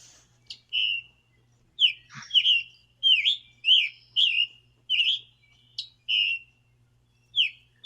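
Woodland bird song plays back as a series of short, clear whistled phrases repeated at a steady pace, crisp and fairly close against near silence with a faint low hum.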